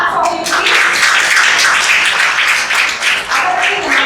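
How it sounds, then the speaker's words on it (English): Students at a school conclave applaud loudly and steadily, with a dense wash of many hands clapping at close range that briefly dips before swelling again. "students can give a clap for him please"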